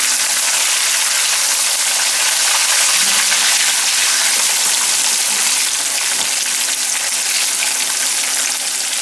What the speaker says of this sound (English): You should only have a single layer of French fries if you're pan frying them.